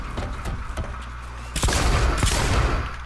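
Gunfire in the shooter game Blacklight: Retribution, a dense rattle of shots that grows louder and heavier partway through; no talk.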